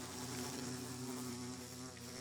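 A steady, droning bee buzz from Minecraft holds without pause, low and constant, with no voices over it.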